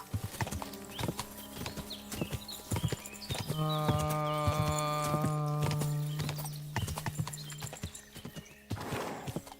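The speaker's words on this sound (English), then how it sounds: "I got me a jumping horse." Rhythmic clip-clop of hooves mixed with a horse's neigh and a sustained whinny, fairly close and loud, with no talking, from the video game Kingdom Come: Deliverance II.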